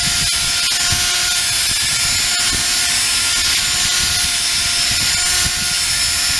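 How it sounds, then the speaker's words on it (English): A corded electric drill fitted with a half-inch bit spins steadily into lawn soil to aerate it, giving a loud, continuous high-pitched whine with faint irregular thumps beneath it and no talk. "this is a 1/2-inch drill bit on my drill"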